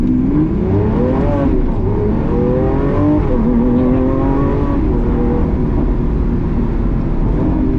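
A Lamborghini Aventador SVJ engine revs loudly and close, its pitch climbing, dropping at a shift into second gear, then rising again under heavy road and wind roar.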